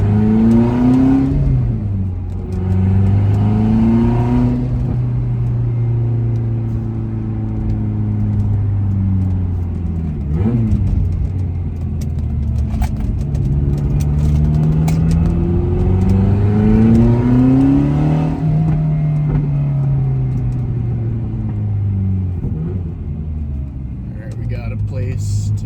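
Lotus Esprit V8 engine heard from inside the cabin while driving at night, a loud low rumble rising and falling as revs climb and drop through gear changes, steady and close throughout.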